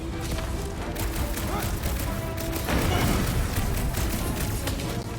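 Rapid gunfire and blasts from a sci-fi action video game battle in Marvel's Guardians of the Galaxy, dense and continuous with heavy booms, loud and close throughout.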